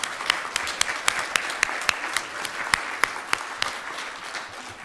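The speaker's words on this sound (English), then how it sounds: "a chance to let us say a special thank you in your direction with a little applause" A church congregation gives a light round of applause for first-time visitors, individual claps standing out crisply over a soft, scattered patter in a reverberant room.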